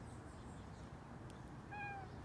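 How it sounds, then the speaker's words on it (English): A garden cat gives a single thin meow near the end, faint and brief against a steady low outdoor hum. "The garden cat."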